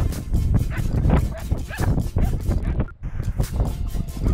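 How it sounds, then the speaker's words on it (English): Wild shepherd dogs bark and yip close by in the high-altitude Peruvian mountains, with a loud, busy scramble of repeated barks and some human voices mixed in. "meets the wild shepherd dogs."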